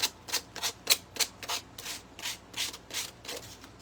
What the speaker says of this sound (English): I'm going to hold it up and sand these edges.